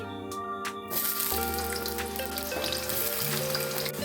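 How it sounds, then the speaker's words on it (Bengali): Potatoes fry in mustard oil in a kadai with a soft, steady sizzle, heard under tonal background music. "প্রথমে আলুগুলোকে ভেজে নেব।"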